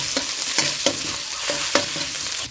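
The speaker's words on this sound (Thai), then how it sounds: "ใส่น้ำมันลงไปเนาะแล้วก็จะใส่ กระเทียมหรือว่าหอมขาวทุบของเขาลงไปเลยนะเจ้า" Crushed garlic frying in hot oil in a pan while being stirred, with a continuous close sizzle broken by regular scraping strokes of the spatula, roughly five or six in quick rhythm, no voices.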